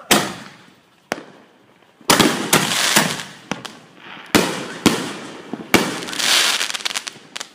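Fourth of July fireworks burst in a rapid irregular series of sharp loud bangs and crackling volleys, some overlapping in dense clusters, others sounding alone with short gaps of quiet between them.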